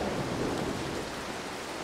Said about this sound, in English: just gotta watch out for the thunder